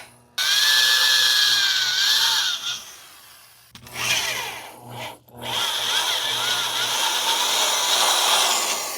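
A drill bit grinds through a ball joint on a 2001 Dodge Ram 1500 in a loud, close, sustained run, stopping briefly partway through and then starting up again with no talking.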